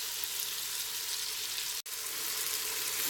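Tomatoes sizzle as they fry in a pan for a creamy tomato and basil soup, a steady close hiss with one momentary dropout, no talk.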